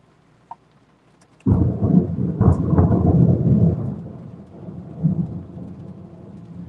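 A sudden loud crack of thunder breaks out and rolls on in deep rumbling waves, with rain pattering steadily underneath.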